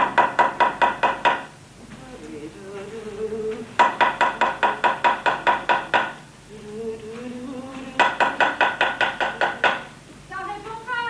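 Rapid bursts of knocking on a door, each a quick volley of about ten raps, repeated three times with a voice speaking in the gaps between them, set in a stage production of Ionesco's play Tueur sans gages.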